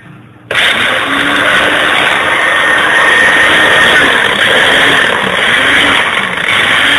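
A blender switches on abruptly and runs at a loud, steady, high-pitched whir, with a faint rhythmic churning underneath, while making a fiery hot-sauce drink with habaneros.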